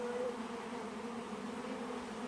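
Honeybees drone at a long hive during a package install, a steady, close, continuous hum with a low pitched tone throughout and no voices.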